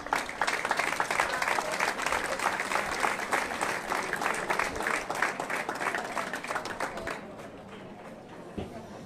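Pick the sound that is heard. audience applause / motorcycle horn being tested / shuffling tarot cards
audience applause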